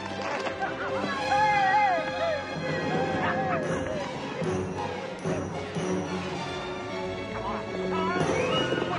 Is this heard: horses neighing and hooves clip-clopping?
yes